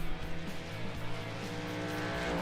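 Race truck engine droning steadily around Darlington in a sim racing game, a continuous loud whine with shifting pitch and no voices.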